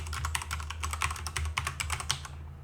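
Rapid computer keyboard typing, a steady run of close, crisp key clicks with small pauses, heard alone with no voices.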